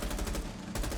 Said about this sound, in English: I'm about to wallbang him, hold on.